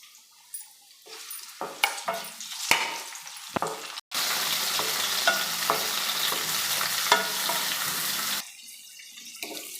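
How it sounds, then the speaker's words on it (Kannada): Onion and chopped tomato fry in a pan for a sambar-style curry, with scattered clinks and stirring scrapes, then a loud steady sizzle that swells for several seconds before easing off. "ಒಂದು ಟಮಾಟ ಕಟ್ ಮಾಡಿ ಹಾಕ್ತಾಯಿದ್ದೀನಿ ಫ್ರೈ ಮಾಡೋದಕ್ಕೆ"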